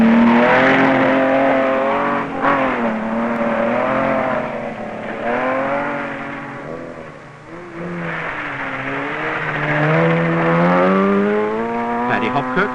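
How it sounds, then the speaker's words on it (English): A rally car's Austin-Healey 3-litre engine revs and pulls hard, pitch rising and falling through gear changes, loud and sustained over about thirteen seconds. "Timo unleashes the power from the Big Healy's 3-litre engine."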